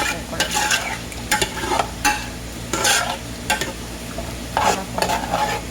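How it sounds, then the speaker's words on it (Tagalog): Goat meat caldereta is stirred in a pot, a spoon scraping and clacking in repeated short bursts over a steady low sizzle, close and moderately loud, with no talking. "So yan guys, haluin lang po natin yan."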